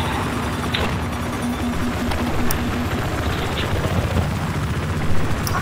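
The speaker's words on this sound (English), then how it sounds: "I'll try to hover the chopper and protect you" A helicopter in the Battlefield 4 video game drones steadily with a constant rotor thrum and engine whine throughout, close and fairly loud, with faint clicks of game effects mixed in.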